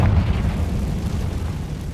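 A Confringo fire spell explosion from Hogwarts Legacy bursts loudly at the start, a deep booming blast that rumbles on heavily for about two seconds with no voices.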